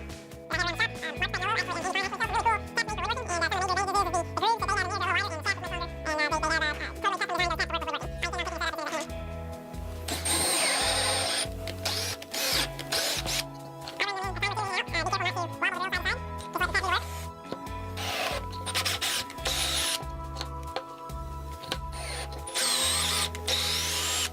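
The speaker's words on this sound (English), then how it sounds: "I flip the piece over so that I'll get a good clean tap, and I'm just using a regular 1/4 tap" A regular quarter-inch tap cuts threads in a metal piece, producing rhythmic grinding and whirring bursts that are briefly broken by pauses and clinks, loud and close.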